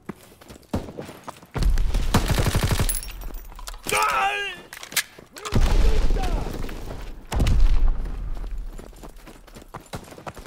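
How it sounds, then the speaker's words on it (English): Gunfire and explosions in a Call of Duty WWII multiplayer Domination match, with a rapid burst of shots, heavy booms and thuds separated by short gaps, and a game voice calling out over the action. "Tossing grenade!"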